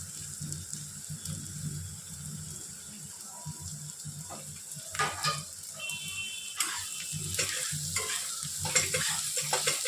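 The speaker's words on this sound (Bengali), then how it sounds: "পেঁয়াজটা খানিকটা ভাজা হয়ে এসছে" Onions frying in a pan on the stove while being stirred: a steady low sizzle with repeated scraping and clinking stir strokes, close by and moderately loud, with no talking.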